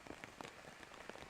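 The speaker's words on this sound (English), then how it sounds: "the rain still falling quite heavily here in Providence, showing no signs of letting up anytime soon" Heavy rain falls steadily across an outdoor women's soccer pitch in Providence during a Big East match, a dense hiss with scattered sharper drops and no voices.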